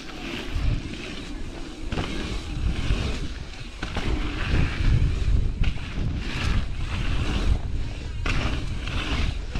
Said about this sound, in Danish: Tårer i øjnene af vinden.